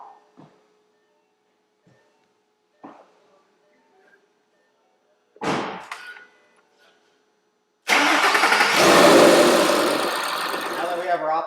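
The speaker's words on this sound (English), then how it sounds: "start the car and check our signal" A car engine is cranked and started while an optical tape sits on the crank for a timing check. A few soft clicks and a short rustle come first, then the engine fires loudly and keeps running close by.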